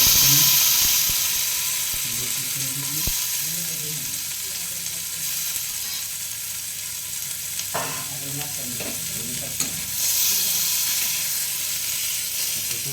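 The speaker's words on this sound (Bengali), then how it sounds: "তারপর দিচ্ছি যে চিংড়ি মাছগুলো আমি রেখেছিলাম" Shrimp frying in a pan for a bamboo-shoot dish, a steady sizzle with stirring scrapes over the whole stretch, fairly loud and close, with no talk over it.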